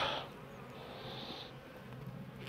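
Honeybees around an opened beehive during a hive inspection, a close, continuous buzzing drone that holds steady for the whole moment.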